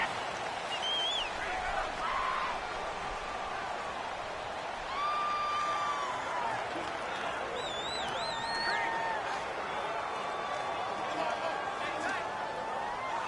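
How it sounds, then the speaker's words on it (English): Steady stadium crowd roar in a Madden 19 simulated NFL game, Chicago Bears against Philadelphia Eagles, a loud continuous wash with rising whistles and shrill tones over it, while a commentator talks throughout. "The crowd's not doing that O-line any favors. Home field advantage is really kicking in, making it very difficult for them to hear the snap count."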